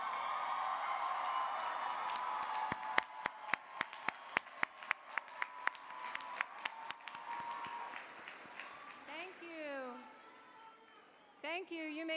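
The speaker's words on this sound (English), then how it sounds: "Let's give them a round of applause." Steady applause from a large crowd at a graduation commencement ceremony, with a few sharp louder claps standing out, fading toward the end before a voice begins speaking.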